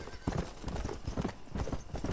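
Horse hooves clip-clop at a steady walking pace in the video game Red Dead Redemption, close and distinct, with a faint whinny in the background.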